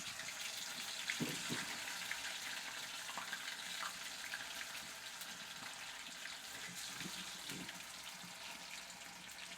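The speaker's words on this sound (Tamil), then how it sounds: "இப்போ வந்து மீனை வந்து வறுத்துடலாம். சக்ஸஸ்ஃபுல்லி போட்டாச்சு. எண்ணெய் தெரிக்குது." Fish pieces frying in splattering hot oil, a steady broadband crackle and hiss with occasional sharper pops, close and continuous with no talk.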